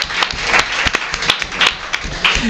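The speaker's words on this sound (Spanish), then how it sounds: "Un aplauso también para mi compañero Carlos Langa" A studio audience at a comedy show applauds with steady, dense clapping and scattered louder claps, fairly close and continuous throughout.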